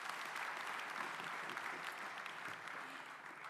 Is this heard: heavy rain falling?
no